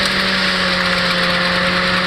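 A 2008 Honda Civic engine idles with a misfire from a faulty ignition coil, giving a loud, steady mechanical drone with a constant hum throughout and no voices.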